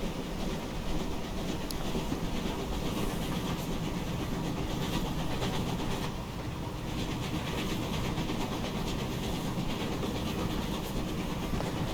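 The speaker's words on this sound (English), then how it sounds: "Really nice chuff sounds overall." An LSWR T3 4-4-0 steam locomotive in Train Simulator Classic runs with a dense, continuous rolling rumble and rapid rhythmic chuffing, steady and loud throughout with no speech.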